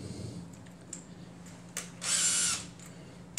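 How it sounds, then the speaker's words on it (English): A short burst of an electric drill whirring for about half a second, preceded by a few faint clicks and taps, in a quiet room. "and of course an electric drill."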